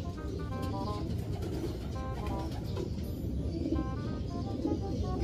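A pigeon with clipped wings coos in soft, repeated low calls, close by over a steady background hum.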